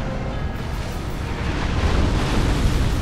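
A deep, rumbling explosion from the video game Dark Souls, a dense low boom that swells and holds steady for several seconds, loud and filling with no voices over it.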